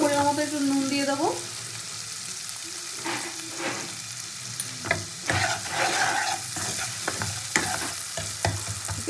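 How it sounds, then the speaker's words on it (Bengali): Onion frying in oil while being stirred, with a continuous sizzle broken by repeated scraping stir strokes from a utensil against the pan, close up; a brief tonal sound opens the clip and no one speaks. "পেঁয়াজটা তেলের মধ্যে নাড়াচাড়া করতে করতে আমি এখানে পরিমাণ মতো একটু নুন দিয়ে দেবো।"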